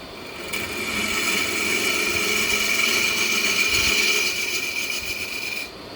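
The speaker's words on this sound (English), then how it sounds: "Since I've got this detail gouge in my hand, I'm just going to use it for a minute." Detail gouge carving out the inside of a wooden box, a steady close scraping rasp that runs continuously for about five seconds with a faint high whine, then stops.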